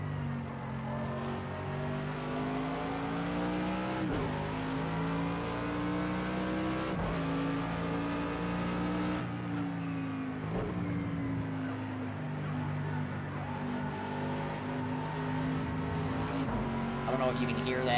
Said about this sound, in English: that nice tire sound over the curbs